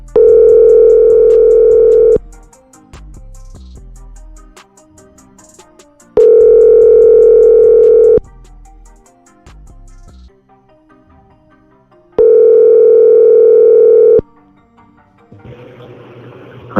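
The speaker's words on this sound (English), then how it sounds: "let's see if I can get him on the line" An outgoing phone call rings repeatedly, three loud steady two-second tones separated by quiet gaps, before an answering-machine greeting begins at the end.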